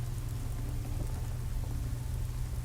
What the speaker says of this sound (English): why do I hear raining when I step inside?